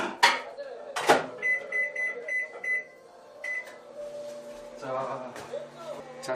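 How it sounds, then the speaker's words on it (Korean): A microwave oven beeps several times in quick succession, then a low steady hum as it runs. "전자레인지에서 5분."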